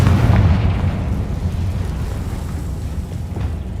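A Confringo spell explosion in Hogwarts Legacy, a heavy low boom at the start that decays into a long, rumbling roar fading over several seconds, with no talk.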